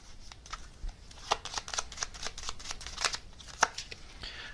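A deck of gummy bear tarot cards is shuffled softly and close by, with irregular papery riffles and flicks of varying strength.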